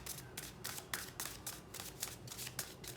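Tarot cards are shuffled by hand in quick, rhythmic bursts of crisp riffling and slapping, close and moderately loud, repeating about a dozen times with no talking.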